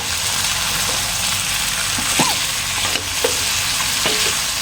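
Pork sizzles and fries steadily in a hot pan for a boiled pork dish, a constant close crackle with a few scraping stirs and clinks over it, no talk.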